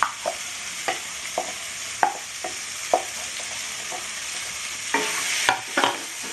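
Potatoes and peas frying in butter for Bengali-style pav bhaji, with a steady background sizzle broken by about a dozen sharp scraping knocks of a spoon stirring the pan, close and moderately loud.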